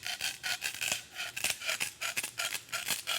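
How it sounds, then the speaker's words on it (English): Rapid back-and-forth rasping strokes of a plastic knife sawing through a cardboard tube, close and steady with an even rhythm and no talking. "you just use your plastic knife in a gentle sawing motion"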